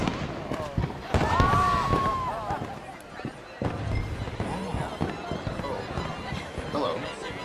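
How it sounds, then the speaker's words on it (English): Fireworks in Red Dead Redemption 2 pop and crackle in a string of sharp bursts, with a brief whistling rise early on. A steady game-world backdrop and voices run underneath. "Let me enjoy the fireworks"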